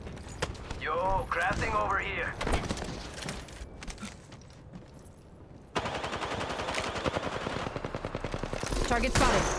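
Video game gunfire crackles in rapid bursts, with horse hooves and a neigh, then a sustained stretch of dense machine-gun fire, loud and close, mixed with character voices talking.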